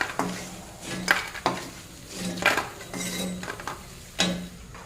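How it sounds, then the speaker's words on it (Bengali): Fried lentil dumplings (bori) are lifted from a pan onto a plate, giving several distinct metallic scrapes and clinks at an uneven rhythm over a soft background sizzle of frying oil, close by with no speech. "বড়িটা লাল লাল করে ভেজে নিয়ে আমি এই একই প্লেটে আমি তুলে নেব"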